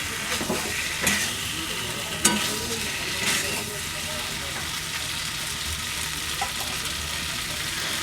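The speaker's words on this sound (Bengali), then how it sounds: "মেটেগুলো দেওয়ার পর খুন্তি দিয়ে ক্রমাগত নেড়েচেড়ে কষতে থাকবো।" Mutton liver stirred and fried with a spatula in a pan, a steady sizzle throughout with a few sharper scraping strokes of the spatula near the start, close and moderately loud.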